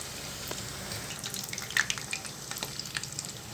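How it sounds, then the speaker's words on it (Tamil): Chicken roll samosas deep frying in oil over medium heat give a steady, close crackling sizzle with scattered bubbly pops, fairly quiet and continuous throughout. "மீடியமில் வச்சுட்டு இது பொரிச்சு எடுக்கலாம்."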